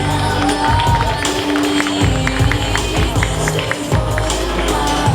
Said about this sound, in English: A big round of applause for Ito Cosplay.